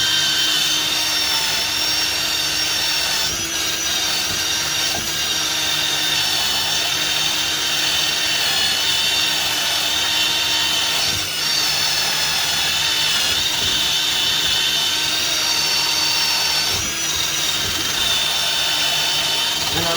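An electric drill polishes an aluminum cylinder head, giving a steady, loud, continuous high-pitched whine with a grinding edge that holds for the whole stretch, with no talk over it.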